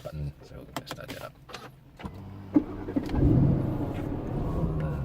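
A 2018 Aston Martin Vantage sports car engine starts via its push button after some talk, firing with a loud burst that settles into a steady, deep rumbling idle.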